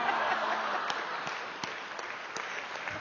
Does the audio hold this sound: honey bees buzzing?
no